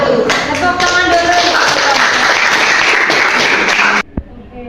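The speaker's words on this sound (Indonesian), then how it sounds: "Tepuk tangan dulu." A classroom audience gives loud, dense applause after a class presentation. The clapping holds steady for about four seconds, then stops abruptly, leaving a single faint clap.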